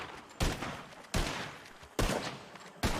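Four evenly spaced gunshots ring out at target practice during a Wild West roleplay game, each sharp crack followed by a lingering echo, with no talking.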